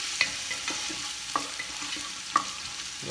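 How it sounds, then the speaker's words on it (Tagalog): Garlic being roasted in a pan for papaitan, giving a faint, steady sizzle with a few sharp clinks and stirring taps from a spatula. "medyo i-roast lang po natin yung ating bawang"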